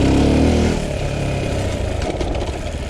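Motorcycle engine riding in second gear along a rough green lane, a loud close drone that drops from a stronger pull to a steadier, lighter rolling throttle, with no talking.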